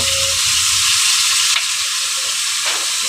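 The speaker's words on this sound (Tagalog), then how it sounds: "Luto ng pansit gisado" Pansit gisado noodles frying in a hot pan as they are stirred, a loud, close, continuous sizzle with a few brief scraping shifts and no talking.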